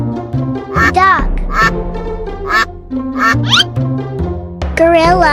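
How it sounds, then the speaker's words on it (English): A cartoon duck quacks loudly several times in quick, irregular bursts, close and prominent, amid other short animated sound effects. "Duck."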